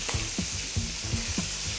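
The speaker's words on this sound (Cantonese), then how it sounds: "而家煎緊嘅就係大連鮮鮑，跟住仲有啲鬆茸片，跟住仲有啲雞皮添" Dalian fresh abalone frying with matsutake slices and chicken skin, a steady close sizzle broken by repeated scraping stirs about every third of a second.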